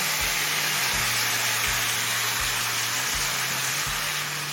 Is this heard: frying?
yes